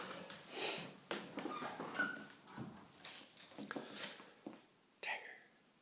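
Several dogs give soft whimpers, sniffs and snuffles at close range, with short scratchy bursts and rustling scattered irregularly across the clip.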